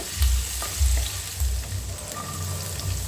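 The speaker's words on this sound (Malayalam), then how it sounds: "ഇഞ്ചി പച്ചമുളക് ചെറുതായി അരിഞ്ഞത് ഇതൊക്കെ ഇട്ടൊന്ന് ഇളക്കിയെടുക്കണം" Curry leaves, chopped ginger and green chilli sautéed in sunflower oil in a pan, loud close sizzling with bursts of spoon stirring and scraping repeating every half second or so, no talking.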